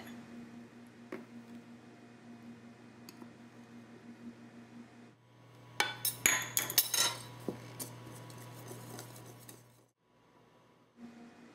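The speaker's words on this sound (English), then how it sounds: "whisk them together in your bowl so that they're well combined" Metal whisk clinking and scraping against a bowl as self-rising and plain flour are combined, a burst of quick bright taps in the middle over a steady low background hum.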